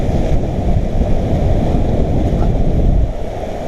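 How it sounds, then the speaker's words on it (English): Loud, steady roar of a big glacial river in Denali squeezing through a narrow slot in the rapids, a continuous broadband rush with buffeting wind on the microphone and no voices. "There's that much water running through that narrow spot"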